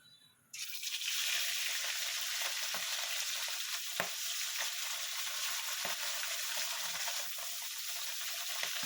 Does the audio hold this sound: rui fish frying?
yes